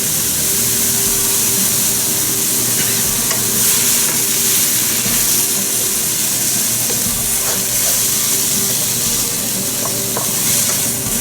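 Onions fry in a pan with salt, a steady loud sizzle and hiss with faint stirring scrapes, continuous and close throughout.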